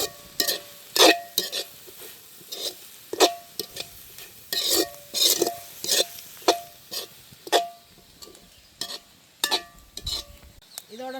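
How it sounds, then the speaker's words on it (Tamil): Onion masala with leeks being stirred in a pan while cooking a village-style lunch: a steady run of close scraping and clattering strokes from a spoon against the pan, with a soft frying hiss underneath. "நல்லா கிண்டுவோம்."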